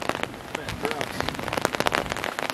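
Rain falls steadily and densely on surfaces at an RV site, a continuous close patter of drops with brief voices mixed underneath.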